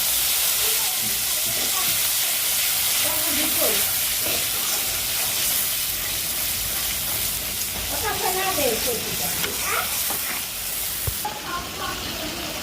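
Spices and food frying in a pan, a steady broadband sizzle running throughout with occasional stirring clatter; a voice speaks briefly in the background.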